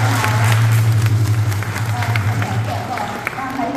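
An audience applauds at a National Day event in Yunlin County, Taiwan. The scattered clapping builds briefly and then thins out, under a loud amplified voice and a low hum.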